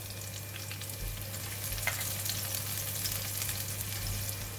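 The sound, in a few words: stir frying garlic and chili in a pan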